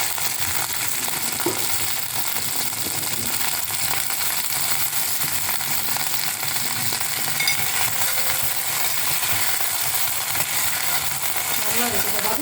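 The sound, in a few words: sautéing vegetables and curry leaves for sambar in a pan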